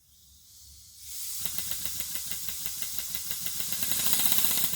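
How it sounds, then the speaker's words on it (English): Steam pump on a coal-fired LGB model Shay two-truck locomotive, restored and modified, runs on compressed air under servo control: a quiet hiss swells into a loud steady hiss with a fast rhythmic chuffing pulse. "So now a test of the steam pump under air pressure with the servo controller here."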